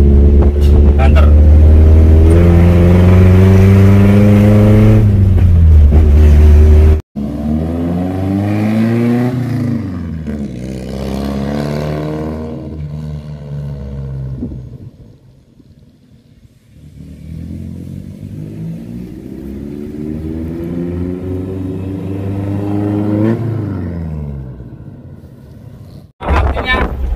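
A Suzuki Vitara 4x4 accelerates hard off-road in rear-wheel drive. Its loud engine revs rise and fall through repeated gear changes, with a brief drop in power midway before it climbs again.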